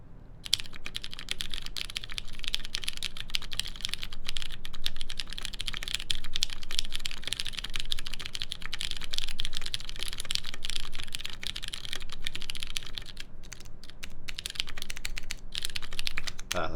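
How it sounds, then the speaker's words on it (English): Steady, rapid clacking of keys on a XENO mechanical keyboard fitted with a plate, typed continuously at a close distance for a long run with no talking and brief pauses near the end. "We are typing on this XENO with a half pound plate, just to see what it sounds like"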